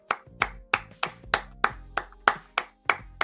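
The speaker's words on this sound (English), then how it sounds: "Come on, Walt, clap with me." Single pair of hands claps in a steady, even rhythm, about three claps per second, sharp and close, with no talking over it, at a basketball post-game show.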